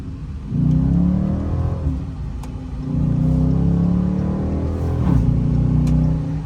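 A Hyundai Elantra N's engine revs with a rising, whirring pitch that drops as gears shift, then climbs again, close and steady throughout.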